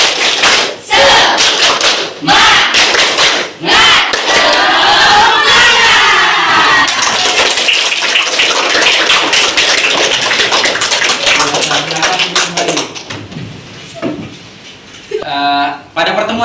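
Classroom of standing students performing a rhythmic spirit clap, sharp loud claps in bursts mixed with group shouting and chanting, ending with a teacher's voice.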